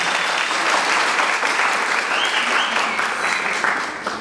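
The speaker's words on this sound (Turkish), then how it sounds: "Kocaman bir alkış tutuyorum." Sustained applause from an indoor audience at a Women's Day and martyrs' commemoration program, dense and steady clapping close by for the full stretch, with no talk over it.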